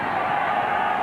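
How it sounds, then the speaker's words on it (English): Dense crowd roar fills a rugby league stadium during a 1993 Canberra Raiders versus Brisbane Broncos match, a steady, even wash of massed voices with no breaks, heard continuously throughout. "This crowd, you can hear them in the background."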